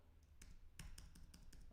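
Typing on a computer keyboard gives soft, scattered key clicks in an irregular rhythm, close and fairly quiet over a steady low hum, with no talk.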